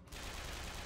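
A ghost gun trap in a video game fires continuously, a dense, loud burst of rapid shots that starts abruptly and runs without a break, with no talk over it.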